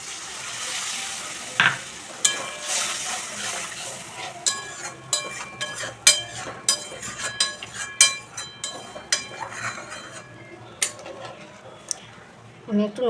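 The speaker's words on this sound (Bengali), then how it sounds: "এবার আমি দিয়ে দিচ্ছি নারকেলের দুধ" Coconut milk goes into a frying spice paste for a Bengali prawn malai curry, then a spoon stirs and scrapes the pan in a run of sharp clinks over a soft, continuous sizzle.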